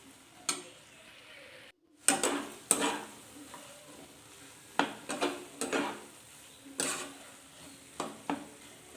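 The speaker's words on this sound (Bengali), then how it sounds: "তো আমি এবার জলটা দিয়ে দেব।" Chickpeas fried with mutton fat for ghugni crackle in a pan after water is poured in, with a low ongoing sizzle broken by repeated sharp bursts of spitting and stirring; no one speaks.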